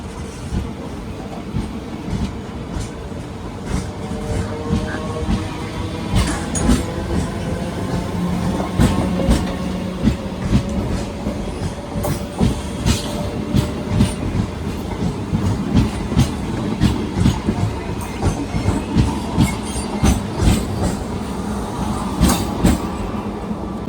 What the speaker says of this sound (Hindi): यहाँ पर निकल रही है मेमू ट्रेन।